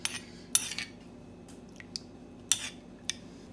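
Cucumber and king prawn salad tossed with fish sauce in a bowl: a few sharp clinks of utensils against the bowl spaced through a quiet, faintly humming background.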